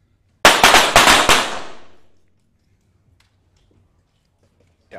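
Rapid burst of about six 25m pistol shots fired at a para shooting competition, sharp cracks in quick succession up close, each with a short reverberant tail that dies away into near silence.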